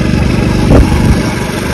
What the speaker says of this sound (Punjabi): ਸਕੂਟਰੀ ਬੱਸ ਨਿਕਲਣ ਵਾਲਾ ਹੀ ਆ ਹੁਣ